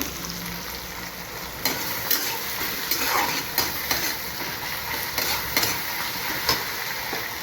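Fish frying in spice paste in a pan: a constant close sizzle with scattered light clicks and scrapes from a utensil moving through the pan, with no voices.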